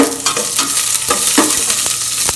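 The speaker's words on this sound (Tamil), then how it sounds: "இதெல்லாம் போட்டு இப்போ நல்லா வதக்கிக்கணும்." Small shallots sautéing in hot oil for a banana stem kootu, with a steady sizzle broken by several sharp spatula scrapes and stirs against the pan, close and loud with no speech.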